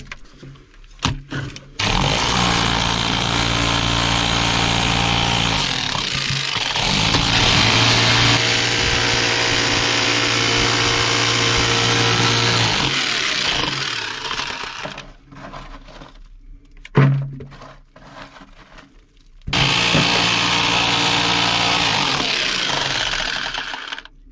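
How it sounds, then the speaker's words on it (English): A jackhammer breaks concrete in a small pump sump, hammering loud and close in long continuous bursts separated by brief pauses. "Alright, jackhammer time."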